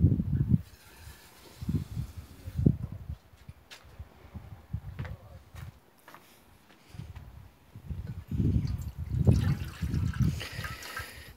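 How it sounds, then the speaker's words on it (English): Water pours and trickles into the pot of a Trangia camping stove in short splashing bursts with pauses between, quiet and close, with no talking. "let's get some water in there."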